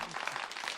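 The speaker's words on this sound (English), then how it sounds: "Rousing round of applause for you as well." A brief burst of studio audience applause welcomes a talk-show guest: quick, continuous clapping that is fairly soft and steady throughout.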